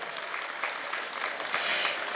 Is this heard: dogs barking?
no